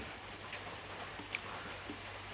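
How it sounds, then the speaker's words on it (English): Steady soft patter of rain on a trailer, a faint continuous hiss with a few distinct drips landing nearby. "it's raining. Lots of rain."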